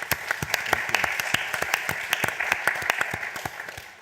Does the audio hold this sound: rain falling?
no